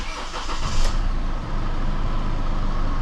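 A 2019 Holden Colorado 2.8L turbo diesel starting up close by: a brief crank that swells as the engine catches, then settles into a loud, steady idle.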